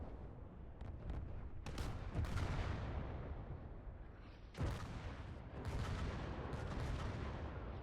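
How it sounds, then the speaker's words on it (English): Howitzer artillery fire in the Indomitus 40K Conquest video game, a dense barrage of heavy booms and blasts rolling on continuously, with sharper impacts standing out near the middle. "Howitzers are opening up also."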